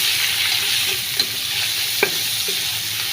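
Spiced fish fries in a pan, a close, loud and steady sizzle with a couple of faint clinks from stirring, no talk.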